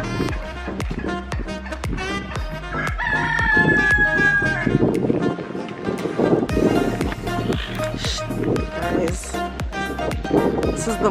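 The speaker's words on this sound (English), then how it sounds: "And chickens." Chickens cluck and a rooster crows on a wine farm among other animals, the calls near and clear above outdoor background noise and clattering footsteps.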